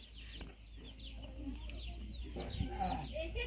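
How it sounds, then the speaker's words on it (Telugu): Chickens cluck in short bursts amid outdoor background noise and a steady low hum, with a voice speaking briefly at times. "అమ్మ వెళ్తుంటే అమ్మ వెనకింబటే కోళ్ళు వెళ్తుంది"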